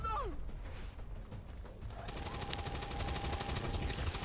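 Bursts of rapid gunfire from the XCOM 2 video game crackle at moderate to low volume over a dull background rumble, with shots growing denser in the second half.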